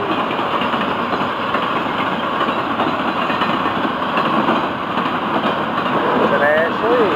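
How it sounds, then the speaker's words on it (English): An FEC freight train running hard rumbles loudly and continuously with a steady engine roar and rail noise, no pauses, close by. "this train runs hard toward Fort Pierce"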